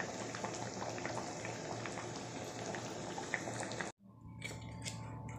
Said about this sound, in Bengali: বন্ধুরা সব কিছু দেওয়ার পরে ভালো করেই ফুটে উঠেছে